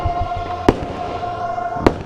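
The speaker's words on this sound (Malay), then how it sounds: "Tu geng, bunga api geng." Fireworks bursting at night during Merdeka Day celebrations, heard from a rider standing by a motorcycle: two sharp, fairly loud booms about a second apart over a steady background hum.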